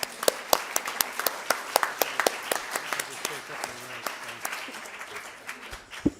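An audience breaks into applause, many hands clapping steadily with sharp individual claps standing out, sustained for several seconds.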